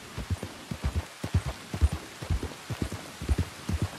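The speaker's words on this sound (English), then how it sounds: "More rain." Steady rain falls in Red Dead Redemption 2, a soft hiss of drops behind a run of low, evenly spaced hoof-like thuds, with no talk over it.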